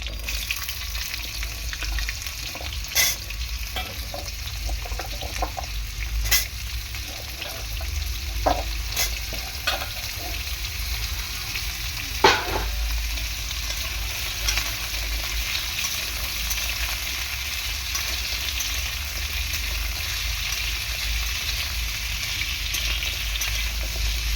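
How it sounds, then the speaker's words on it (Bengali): Chickpeas, soybean chunks and potatoes sizzle steadily in hot oil for a home-cooked vegetable curry, with occasional sharp scrapes and clacks of a spoon stirring through the pan, no voices. "হালকা করে তেলের মধ্যে একটু নাড়াচাড়া করে দেবো।"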